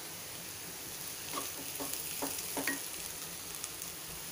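Boiled potatoes and onions frying on a tawa for masala dosa filling, a steady quiet sizzle with a few soft stirring scrapes near the middle and no talking.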